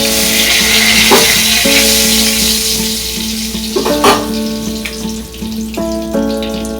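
A bay leaf dropped into hot fish oil for a spicy fish curry sizzles loudly and close, with a strong hiss, occasional crackles and spatters, and a steady background hum, with no talk.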